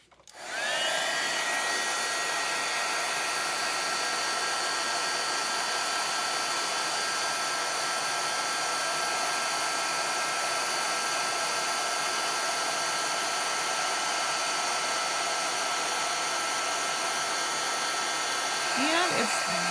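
A heat tool blows hot air in a continuous, loud, steady whoosh with a high whine, starting suddenly and running unbroken for a long stretch.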